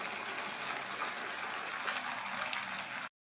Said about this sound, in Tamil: மிக்ஸி ஜாரை கழுவி தண்ணி சேர்த்துக்கலாம்